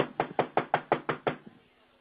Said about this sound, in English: why are you banging so heavy?